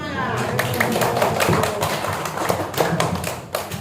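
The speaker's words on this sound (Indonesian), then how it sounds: "Tepuk tangan teman-teman" A class of students applauding together: a dense, steady patter of many hands clapping at close range for several seconds, with voices murmuring underneath.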